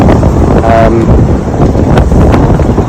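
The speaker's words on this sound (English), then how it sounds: "it's pretty blowy on the end of this wind" Strong wind on a lake in winter buffets the microphone with a loud, constant low roar for the whole stretch, without speech.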